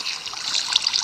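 A bucket of water placed in a Minecraft-style block game sends out a short burst of trickling, splashing flow, bright and close, running unbroken for about a second with no talk.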